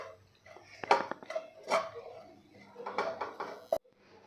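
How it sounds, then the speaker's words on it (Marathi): Cashews, almonds and pistachios being stirred together in a bowl for malai modak: intermittent clinks and scrapes of a spoon against the dish, close and moderately loud, with no talking. "आता हे सगळं आपल्याला मिक्स करून घ्यायचं आहे"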